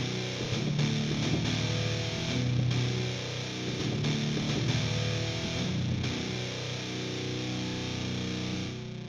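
A distorted electric guitar amplified in a large hall and captured with dynamic microphones, playing sustained, gritty chords with a roomy tone, steady and fairly quiet throughout with no talking.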